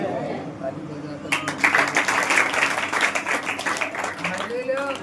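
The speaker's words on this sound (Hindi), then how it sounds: "बोलो प्रभु यीशु मसीह की ताली बजाकर" A church congregation at a Saturday worship meeting bursts into sustained applause and clapping, dense and continuous with a voice speaking over it.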